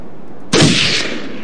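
A single loud gunshot blast from a Newgrounds browser game bursts in abruptly after near silence, then rings off in a bright, hissing tail that fades slowly.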